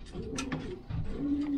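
A pigeon held in someone's hands gives soft, agitated coos and wing rustles, close and continuous over a short stretch, with a steady low tone near the end.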